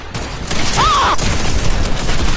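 Rapid gunfire crackles through a video game shooter, loud and dense bursts filling the whole moment with a brief whistling tone in the middle.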